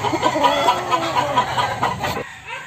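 Backyard pet chickens, some of them laying hens, cluck in a rapid repeated series close to the recorder, several birds overlapping before the sound cuts off near the end.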